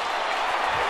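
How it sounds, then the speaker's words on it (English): A football stadium crowd roars after a Collingwood goal late in a Hawthorn versus Collingwood match, a dense, continuous wash of cheering and applause filling the brief moment. "Crowd's gone nuts."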